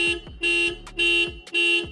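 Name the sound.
car horn triggered by key fob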